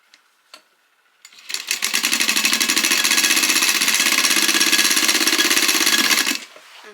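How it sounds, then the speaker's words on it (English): Sewing machine stitching the corners of a grocery tote with a half-inch seam, a steady rapid mechanical whirr that runs continuously for about five seconds at close range, preceded by a couple of soft clicks and no talk. "We are going to sew up these corners just like before."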